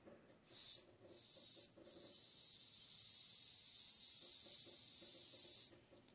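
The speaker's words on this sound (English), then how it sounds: "It's supposed to be a dog whistle, so it's supposed to be a very high frequency." A 3D-printed plastic dog whistle is blown in two short toots followed by one long, steady, piercing high-pitched tone with a breathy hiss, loud and close, without any talk.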